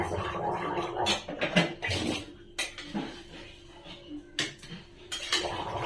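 Kadai and cooking pots handled in a home kitchen, with irregular metallic clanks, scrapes and clattering knocks close by, some sharp and loud, others soft, and no voices.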